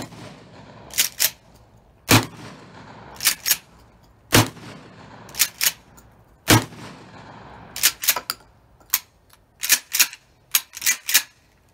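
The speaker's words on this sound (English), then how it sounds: "Safety goes on now so we can shoot." Home-defense shotgun blasts, a series of sharp, loud reports fired one at a time, with irregular pauses and quick pairs and clusters of shots toward the end and no voices.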